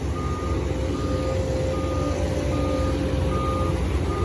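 XCMG XE215 excavator working on a farm pond dig, a steady heavy diesel engine rumble with a regularly repeating reversing beep about once every second or so, loud and continuous, no talking.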